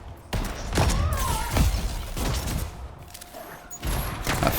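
Missiles launching and exploding in the video game Anthem, with repeated booming blasts and thuds spread across the stretch at close range, some whooshing between them.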